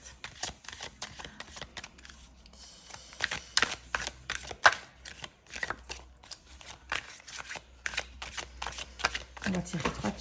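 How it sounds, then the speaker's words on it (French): Tarot cards being shuffled by hand, a run of crisp riffling flutters and soft slaps at close range, repeated in uneven bursts while someone talks throughout. "On mélange les cartes."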